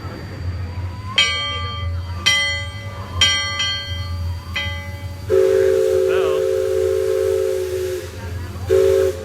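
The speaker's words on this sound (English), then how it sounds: "It's awesome to hear that whistle." A loud, sustained riverboat steam whistle blows after several ringing bell strikes, then sounds again briefly, with hiss and engine rumble underneath, aboard the refurbished Liberty Belle riverboat at the Magic Kingdom.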